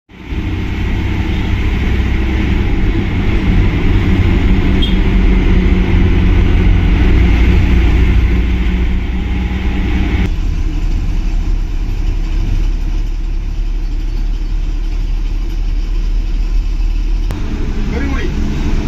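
Inside an AC sleeper bus on the road to Hosur, the engine runs with a constant low rumble and droning road noise, steady and fairly loud, easing slightly partway through.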